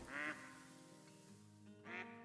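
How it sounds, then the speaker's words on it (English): Ducks quack near a duck blind: two nasal calls come from close by, one at the start and one near the end, with a faint low background between them. "we got ducks coming in at least"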